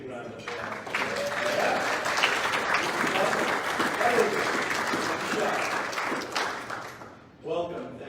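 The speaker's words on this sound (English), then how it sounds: "stand up so we can give you a big round of applause." An audience at a chamber of commerce meeting gives a loud, sustained round of applause for new members for about six seconds, with a speaker's voice resuming as the clapping fades.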